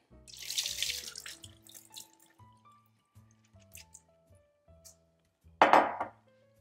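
Water runs and splashes in a kitchen sink as soaked farro is drained, a rushing burst at the start, then scattered drips and faint clinks, and another short splash near the end.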